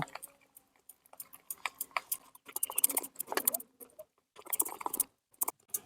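Ground moong dal batter being mixed with a spoon in a bowl, a close run of irregular wet slaps and light clicks in quick bursts separated by short pauses.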